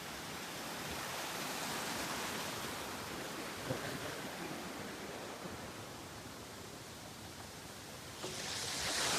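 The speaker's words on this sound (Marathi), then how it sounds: "खतरनाक पाणी आहे वॉटरफॉलला तर" A dangerous, fast-flowing waterfall near Chanderi Fort at night gives off a steady broadband rushing roar, loud and constant, swelling slightly at the end, with no voices.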